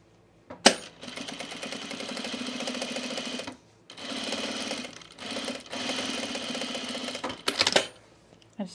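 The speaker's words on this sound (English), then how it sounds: "So I'm going to sew a seam. I'm gonna top stitch it." Domestic sewing machine top stitching a seam on a men's utility jacket, three steady whirring runs of stitching broken by short pauses and a sharp clack or two, close up.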